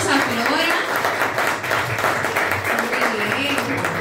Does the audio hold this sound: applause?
yes